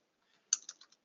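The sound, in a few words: typing keystrokes on a computer keyboard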